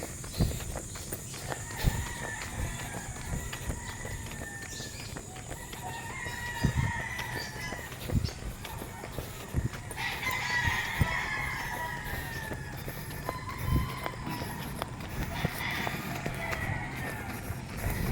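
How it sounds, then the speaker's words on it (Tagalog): Many chickens with roosters crowing repeatedly around a rural town road in early morning, moderately distant, over steady ambient noise and occasional footsteps while jogging. "Daming manok ah."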